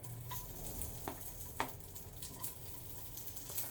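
Steady crackling sizzle of food frying in a hot pot, with a few soft clinks and stirring sounds, close by and moderately quiet.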